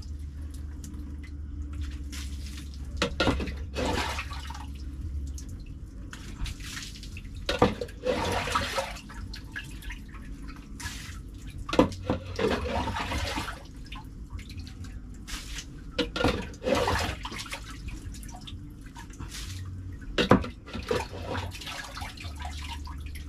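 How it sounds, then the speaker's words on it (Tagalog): Steady heavy rain at night during a typhoon, with irregular drips and splashes of water, a continuous wet patter punctuated by louder bursts, no voices. "Dire-diretso ang ulan malakas"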